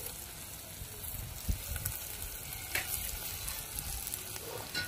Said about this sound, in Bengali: এবার আর ঢাকা দেবো না, অনেকটাই নরম হয়ে গেছে উচ্ছেটা, একটু ভেজে নিচ্ছি ভালো করে